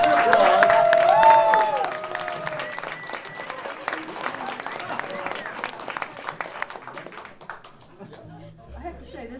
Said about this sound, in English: So, here's the applause.